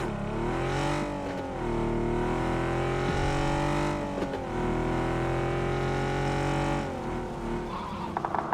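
A car driven in the video game PUBG roars continuously at close range, its engine revving and shifting pitch as it accelerates and slows, with tires squealing at moments and no speech over it.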